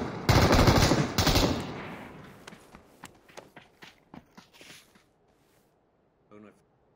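Loud bursts of rapid automatic rifle fire in PUBG, an M4 and Mini 14 loadout, dense for the first two seconds, then separate sharp shots tapering off, with a faint final burst in the distance.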